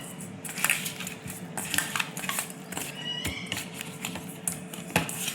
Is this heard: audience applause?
no